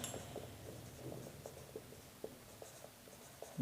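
A pen writes on paper in soft, close scratching strokes, quiet and irregular, with no talk.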